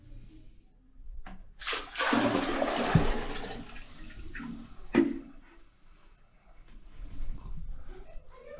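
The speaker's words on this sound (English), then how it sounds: "you're gonna grab a bucket of water and you're gonna pour it down" Water dumped from a small pail into a clogged toilet bowl makes a loud rushing gush with splashing and gurgling, then slower draining and trickles; a voice speaks briefly.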